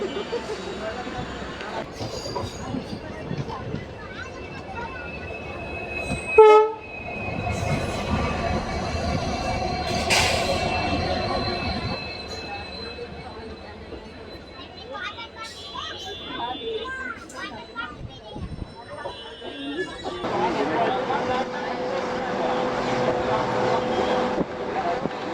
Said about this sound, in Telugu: హగిరి నుంచి మన ట్రైన్ బయలుదేరింది.